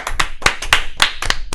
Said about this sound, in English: Let's applaud Kiki.